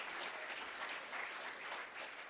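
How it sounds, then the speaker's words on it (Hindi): Audience applause at a mushaira, an Urdu poetry gathering held by a literary society in North America, heard as a faint, even wash of clapping that stays quiet throughout. "सो बहुत सारी तालियां मुहिब्बान उर्दू अदब शुमाली अमेरिका के लिए"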